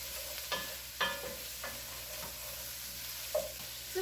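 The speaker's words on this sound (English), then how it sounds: "It's going to take a few minutes to get this sautéed." Zucchini sautés in a pan with a soft, steady sizzle, broken by a few light scrapes and taps of a spoon stirring.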